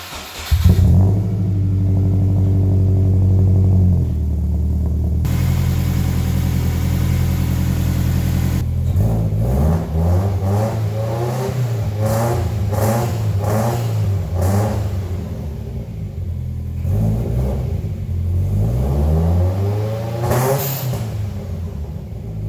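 A Subaru Impreza project car's engine runs loud and close, holding a steady drone before being blipped through a series of sharp revs that rise and fall repeatedly.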